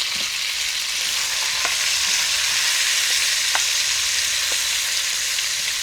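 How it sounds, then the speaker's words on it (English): Vegetables sautéing in olive oil in a pot on the fire: a steady, loud, dense sizzle throughout, with a few faint clicks and stirs. "We're going to get this saute a little bit first."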